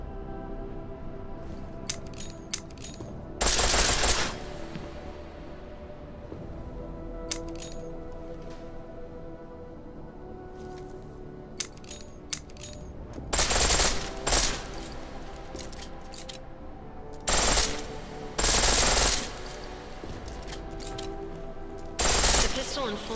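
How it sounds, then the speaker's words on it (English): Rapid bursts of full-auto pistol fire in the game Deus Ex: Mankind Divided, four or five loud clusters spaced across the stretch with scattered single shots and a busy ambient game backdrop between them. "The pistol in full auto will take down targets fast."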